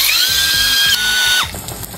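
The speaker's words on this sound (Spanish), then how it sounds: "Coloco el tomate y con el caldito del cuero voy a licuar" Kitchen blender whirring steadily as it purées tomato with broth for a chickpea stew, a loud continuous motor whine that drops in pitch and cuts off near the end, leaving a softer rattling hum.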